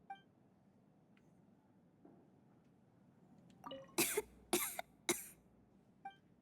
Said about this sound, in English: We just get to hear a cough.